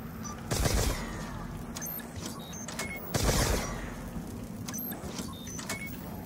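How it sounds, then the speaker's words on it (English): A Ray Gun Mark II fires in Call of Duty Zombies with two sharp, loud energy blasts about three seconds apart, each trailed by a shimmering electronic zap, over a steady game background hum. "I think the Ray Gun Mark II also goes through zombies."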